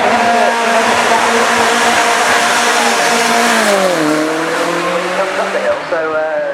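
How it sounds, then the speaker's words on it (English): An Aston Martin Vantage GT3 race car powers up the hill at the Goodwood Festival of Speed, its engine howling loud and close with a rising pitch, a dip as it shifts, then climbing again under commentary. "the Aston Martin Vantage thunders its way up the hill"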